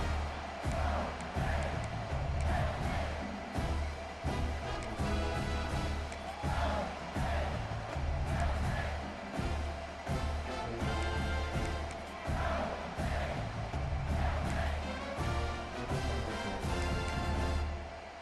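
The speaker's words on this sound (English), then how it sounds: "that last score was a real buzzkill for this crowd" A simulated stadium crowd in the EA Sports College Football 26 video game roars continuously, with swelling cheers and shouts, loud and dense throughout, with faint commentary voices mixed underneath.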